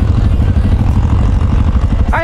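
Motorcycles on a forest road, a close, loud engine with a steady pulsing rumble throughout, and a voice briefly heard at the very end.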